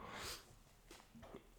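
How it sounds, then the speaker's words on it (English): A person clears their throat in a quick, rough burst, followed by two quieter, breathy rasps, close and faint against a quiet background. "I needed to clear my throat"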